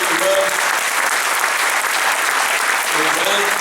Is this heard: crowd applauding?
yes